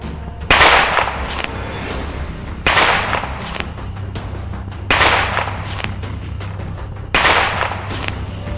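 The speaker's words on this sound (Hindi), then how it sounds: "पिस्टल को लोड करता है और हवा में फायर कर देता है" A pistol fired into the air gives four sharp, loud outdoor cracks spaced about two seconds apart, each with a brief echoing tail over a low steady background hum.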